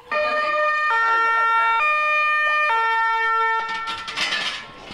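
An ambulance siren wails loudly and close at an accident rescue drill with police and firefighters, its two-tone hi-lo pattern switching about every second before fading into noise.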